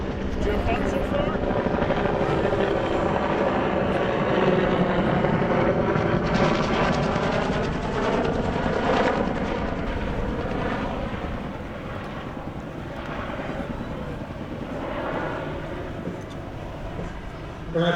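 A Bell AH-1 Cobra and a UH-1 Huey, both single-engine military helicopters, fly nearby with a steady, loud rotor and turbine roar. The sound swells, then eases slightly while continuing without a break. Faint talk may sit beneath it.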